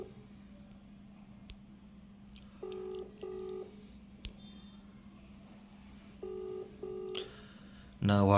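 An unanswered phone video call rings with paired electronic tones repeating twice over a low steady hum, ending with a louder burst at the close.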